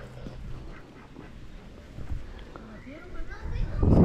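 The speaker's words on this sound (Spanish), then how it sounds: "Y ahí hay patos también." Ducks by a stream give a few faint quacks amid outdoor background noise, with a louder rustle building at the end.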